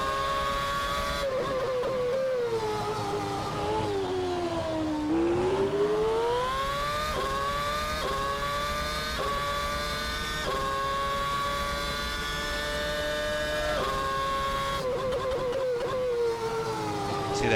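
McLaren MP4/22 Formula 1 engine in the Assetto Corsa racing game, screaming high revs that climb through the gears, then a string of rapid paddle downshifts with sharp rev blips and falling pitch, loud and continuous.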